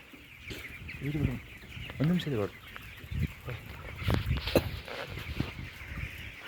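Chickens cluck and squawk in a poultry farm house, with a lively cluster of calls coming in bursts and a murmur of voices in the background.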